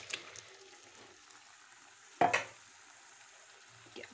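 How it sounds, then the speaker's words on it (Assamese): Turmeric-coated chicken pieces tipped into a frying pan of already-softened tomatoes: a quiet background sizzle broken by one sudden loud hiss burst as the meat hits the pan, fading back to a low fry with faint clinks. "বিলাহীখিনি অলৰেডি সিজিলে, এতিয়া মাংসখিনি দি দিওঁ মই"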